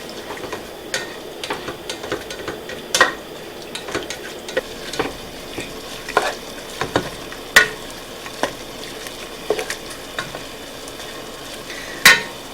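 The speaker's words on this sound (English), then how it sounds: "So now we're going to bring this to a boil, stirring it frequently." Carrot cake or apple pie jam coming to a boil in a pot, stirred often: a soft bubbling bed broken by regular spoon scrapes and taps against the pot, close and fairly loud, with no talking.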